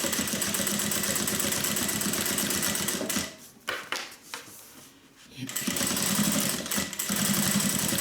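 A sewing machine stitches a sling bag seam in steady rapid bursts, pausing briefly midway while the needle stays down to pivot, then running straight again at close range.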